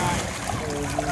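An E-boat is paddled on open water with strokes on the right side only, a steady wash of water and splashing close by with voices over it.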